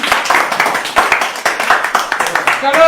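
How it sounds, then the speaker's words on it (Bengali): A group claps loudly and briskly for Shantanu during a ball drop game challenge, with dense overlapping hand claps held steady throughout and a voice breaking in near the end. "চলো শান্তনুর জন্য একটা সবাই জোরে হাততালি"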